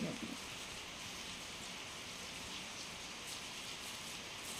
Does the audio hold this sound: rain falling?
yes